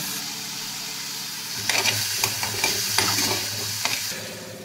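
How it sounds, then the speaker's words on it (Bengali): Cumin seeds and mixed vegetables sizzle in hot oil, steady frying hiss throughout, with a burst of sharp crackles and spatula scrapes midway as the pan is stirred; no voices. "জিরেটা হালকা একটু ভেজে নিলেই আমি সমস্ত সবজিগুলো অ্যাড করে দেবো"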